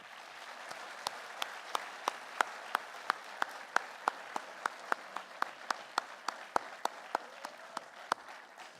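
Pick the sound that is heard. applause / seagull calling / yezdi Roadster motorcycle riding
applause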